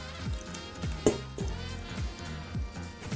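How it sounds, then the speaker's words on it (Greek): Guanciale and its fat sizzling in a hot frying pan for carbonara, with a steady crackle and repeated scraping stirs in a regular rhythm. "Ρίχνουμε το γκουανσιάλε που έχουμε μέσα στο τηγάνι μαζί με το λίπος, επίσης βασικό."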